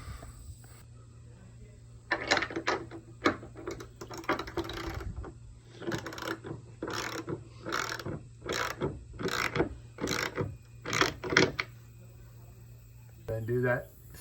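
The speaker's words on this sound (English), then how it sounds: "And then I'll get that all tightened down, the ratchet set," Ratchet wrench tightening hardware on a DIY swinging day bed, with bursts of rapid clicking in repeated strokes over a steady low hum, fairly close.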